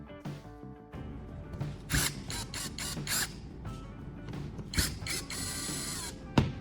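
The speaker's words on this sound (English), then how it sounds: "The first thing I do is loosen the 2 screws at the ends of the L brackets." Screws at the ends of L-shaped brackets being loosened with a small driver, with a quiet, close ratcheting whir interrupted by brief clicks and taps in an irregular rhythm, no voices.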